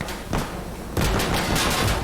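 Gunfire from a competitive multiplayer shooter match, sprayed through a wall: a dense, continuous burst of shots that grows louder partway through and carries on steadily without any talk.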